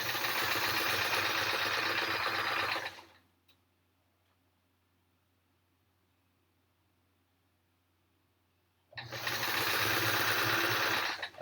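A sewing machine stitches a Triangle Tango quilt in steady, rapid whirring bursts, running for about three seconds, pausing into near silence, then starting up again just as loud and close.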